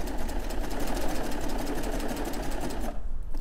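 A serger sewing machine stitches, trims and neatens the seam edge of pajama fabric, its rapid mechanical chatter running steadily and close for about three seconds before stopping abruptly.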